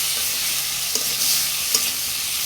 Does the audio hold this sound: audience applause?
no